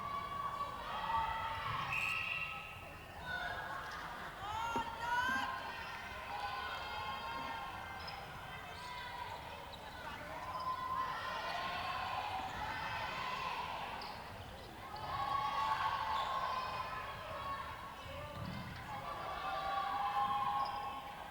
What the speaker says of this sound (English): Crowd are maintaining their excitement here as we hear them cheer all the passes that Trinidad and Tobago make